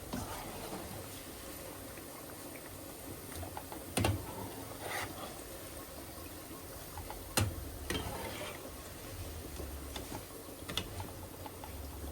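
A knife slices plantain on a cutting board in a home kitchen, giving a few sparse, soft taps spaced seconds apart over a steady low background hum.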